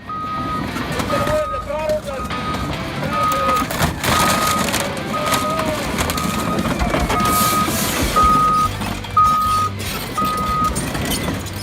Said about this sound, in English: Crushing with an excavator is just as impressive, if not more so.